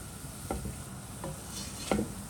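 A spoon stirring thick Levantine churro dough in a pot, three soft scraping strokes spaced apart, quiet and close with no talk.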